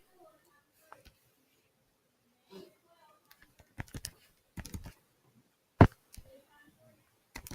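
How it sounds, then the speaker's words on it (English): Fingers tap calculator keys, entering numbers in a classroom math lesson, a sparse irregular series of light clicks, close but quiet, with faint speech in the background. "So y'all type that in."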